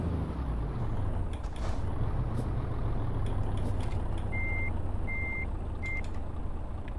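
A truck in Euro Truck Simulator 2 shifted into reverse, with a low steady engine rumble throughout and three evenly spaced reversing beeps near the end, clear over the drone.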